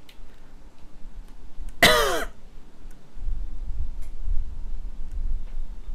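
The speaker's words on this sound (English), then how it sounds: "I'm sorry, I'm just coughing." A single sharp, loud cough bursts out close to the microphone during a Garry's Mod Prop Hunt game session, standing alone against a low background rumble.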